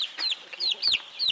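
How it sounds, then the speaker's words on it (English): Sand-colored jack chicks in a stack brooder cheep and cluck nearby, a quick series of high, sharp peeps in irregular rhythm. "We've got 14 sandjack chicks coming along, which will more than double our flock."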